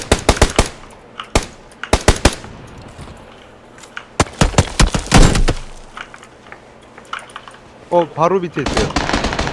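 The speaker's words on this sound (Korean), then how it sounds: "다른 애들이 쏴주고 있어" Machine-gun bursts and single gunshots in PUBG (PlayerUnknown's Battlegrounds), loud and sharp in clustered volleys with gaps between, a brief spoken remark near the end.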